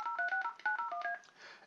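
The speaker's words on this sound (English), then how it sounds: "you hear my desk phone is now calling my cell phone" A 3CX desk phone dials a mobile number, giving a quick run of about a dozen DTMF keypad tones in an uneven rhythm, clear and alone, followed by a faint soft tone.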